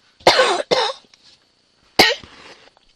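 Two sharp coughs in quick succession, then a third cough after a short pause, close and fairly loud in a quiet room.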